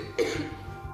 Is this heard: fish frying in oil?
no